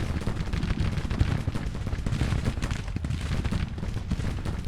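Civil War musket volleys in the Grand Tactician strategy game: dense, continuous rolling gunfire with overlapping cracks and booms, loud and sustained throughout, no voices.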